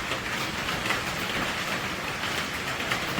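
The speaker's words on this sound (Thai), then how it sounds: "ข้างนอกครับ ฝนตกครับ" Steady rain falling outside at night, a dense, even hiss with no breaks, heard from indoors at moderate distance.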